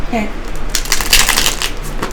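Tarot cards being shuffled during a reading, a dense papery riffling and rustling that swells in the middle and continues steadily for about two seconds, fairly close and with no talking over it.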